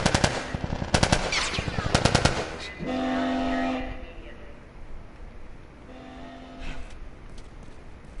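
Rapid bursts of automatic gunfire in The Last of Us Remastered, loud and close in the opening seconds, then fading as a low rumble and droning tones carry on with scattered distant shots.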